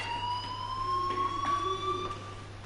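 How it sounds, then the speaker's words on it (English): Fire alarm ringing in the video game Life is Strange, a continuous electronic tone holding steady and slightly rising in pitch, clear and uninterrupted above a low background hum. "do you hear that fire alarm?"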